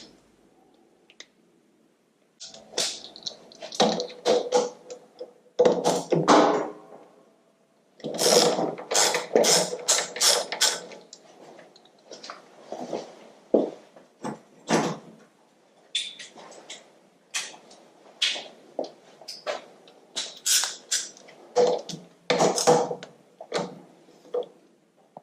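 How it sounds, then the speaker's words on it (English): Metallic clicks, ratchet turns and tool clatter from removing a front brake caliper on a Honda Africa Twin motorcycle, close and intermittent, in bursts of sharp mechanical ticks with short pauses, no talking. "in order to remove the front wheel, it's necessary to remove one of the calipers"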